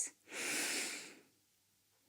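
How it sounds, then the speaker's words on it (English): A single deep breath drawn in through the nose during a yoga lunge, soft and close, with a steady airy rush lasting about a second, then quiet. "Take a nice big inhale here"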